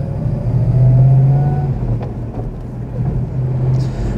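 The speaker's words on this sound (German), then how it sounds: "Im zweiten Gang, da muss man so ein bisschen sich Zeit lassen," Engine of a 1956 BMW 503 Coupé running as it is shifted into second gear, a loud, steady low drone that swells and eases slightly before a short change in tone, with no voices.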